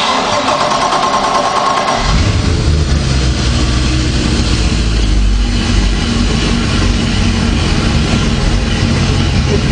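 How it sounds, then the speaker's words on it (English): A 2009 Mercruiser 5.7L 350 MAG MPI 300 hp Alpha boat engine cranks and catches after a brief quiet hum, then settles into a loud, steady, deep idle that continues close by to the end. "We're going to fire this bad boy up right now"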